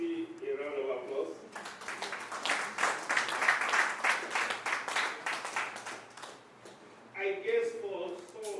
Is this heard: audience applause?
yes